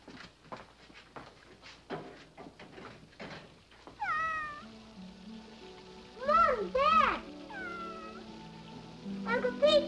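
A half-drowned cat out in a storm meows several times, the cries loud and close with rising and falling pitch, following softer rustling and steps.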